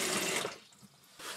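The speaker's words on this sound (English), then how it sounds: "run some water through the line first" Water running from a braided refrigerator supply line as air and debris are purged, a loud steady rushing hiss that eases midway and then surges back near the end.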